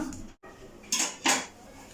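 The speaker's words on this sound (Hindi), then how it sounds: "आहिस्ता आहिस्ता हम इनको मिक्स करेंगे ताकि ये जो बॉल्स हैं वो टूटे ना" A utensil stirs vegetable manchurian balls in a pan, giving a couple of short metallic clinks and scrapes against the cookware, close and clear, with no talking.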